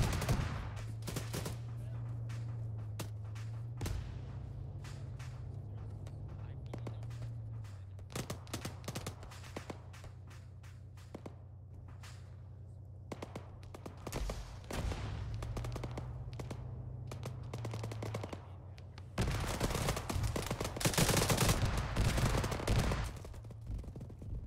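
Rapid bursts of gunfire in an Arma 3 combined-arms combat mission, sharp repeated cracks scattered throughout with a heavier, denser barrage near the end, over a steady low engine-like drone.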